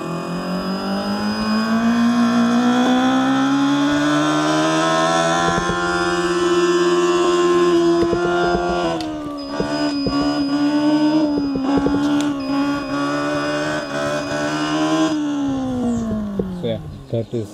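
An Emmo Gandan Turbo 2023 electric motorcycle plays its Bluetooth exhaust sound, a loud synthetic engine tone that rises, holds and dips as if revving, with faint talk underneath.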